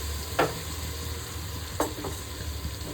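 Chopped tomatoes fry for chicken biryani in a steady sizzle, broken by two sharper scrapes of a stirring spoon against the pan.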